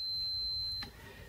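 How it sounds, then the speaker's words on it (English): A multimeter's continuity test gives a single steady, high-pitched electronic beep that holds for under a second, then cuts off, leaving faint background hiss. "You can test it for a short circuit using a beep test."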